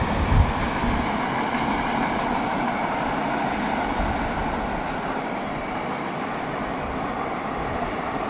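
A freight train with Wisconsin Southern boxcars rolls past close by, giving a steady, loud rumble and rattle of wheels on rail that holds for the whole stretch without letting up.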